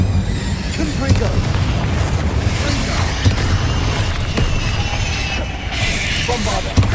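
A Confringo explosive spell goes off in the Hogwarts Legacy video game, a dense, continuous rumbling blast with scattered cracks and booms layered over it throughout.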